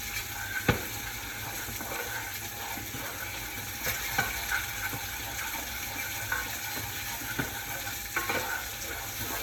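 Salmon fries skin side down in a pan with the skin already crisp. A continuous close-up sizzle crackles throughout, with scattered small clicks and pops and a few louder taps on the pan.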